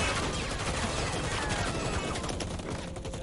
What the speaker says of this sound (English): Some more shots going out.